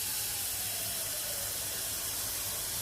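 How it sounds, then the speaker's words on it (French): Water runs from a kitchen tap into a saucepan, a steady, close hissing stream with no breaks or talk. "Je vais mettre de la flotte."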